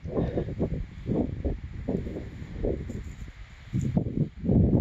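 Gusty, cold wind buffets a backcountry campsite in uneven, rushing surges, loud and close, rising and falling with no voices.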